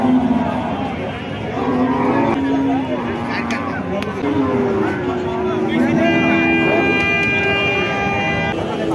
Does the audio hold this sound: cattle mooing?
yes